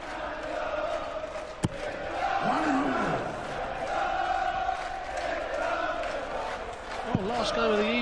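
Darts crowd singing in the City West venue at the World Grand Prix, a steady, far-off chant rolling through the hall under a commentator's talk, with a sharp thud near the start.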